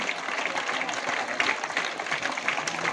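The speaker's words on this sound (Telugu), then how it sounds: "ఒకసారి అందరం మనం చప్పట్లతోని వారికి కృతజ్ఞతలు తెలియజేయవలసిందిగా కోరుతున్నాము" An audience gives sustained, even applause at a event about student education and meals, a dense patter of clapping throughout with no speech over it.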